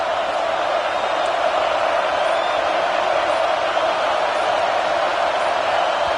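Steady roar of a stadium crowd in a football video game, loud and continuous without a break, with no distinct cheers or claps standing out.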